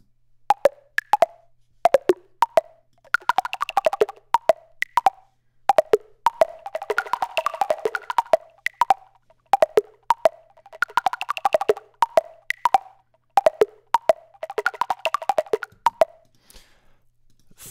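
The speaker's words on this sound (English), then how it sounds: "it's actually got a kind of atonal groove to it, which is also coming from the ES2" An atonal percussive synth groove from Logic's ES2 synthesizer, made of crisp plopping clicks in a busy repeating pattern with short bursts and rolls, dry and upfront, ending in a faint tail.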